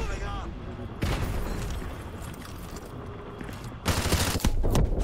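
Gunfire in Modern Warfare 2 Remastered: a burst of rapid shots, then quieter action under a voice, and a fresh loud volley near the end.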